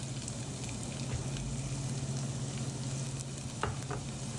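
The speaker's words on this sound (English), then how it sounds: "Gonna go ahead and add our shallot" Shallot sizzles in about three tablespoons of extra virgin olive oil in a pan, a dense, even frying hiss heard close up with only a couple of faint taps, no talking.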